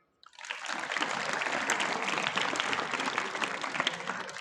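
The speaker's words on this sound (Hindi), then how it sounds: "अब बजाओ ताली" Children in a school assembly break into a burst of loud, dense clapping that starts abruptly and keeps going steadily, close and filling the room with no voices over it.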